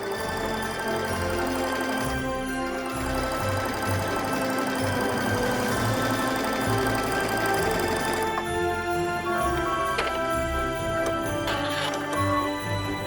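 A domestic sewing machine runs steadily, stitching a first row along a pressed mark on patchwork fabric for a stocking; the needle's rapid mechanical chatter stays close and continuous, with a brief slowdown near the end.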